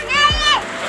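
Children splash water in a quick burst, and a voice is heard briefly over the splash.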